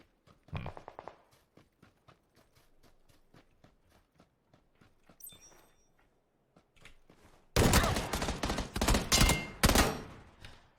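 In a PUBG match, a quiet stretch of footsteps gives way to a loud, close volley of gunshots near the end, with a few scattered shots and clatter earlier.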